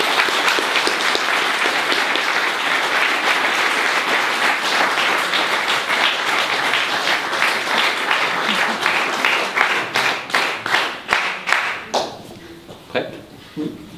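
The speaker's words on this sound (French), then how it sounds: "vous pouvez applaudir Madame." Sustained applause from a crowd at a French National Order of Merit award ceremony fills the room, with voices mixed in, then thins out into scattered individual claps toward the end.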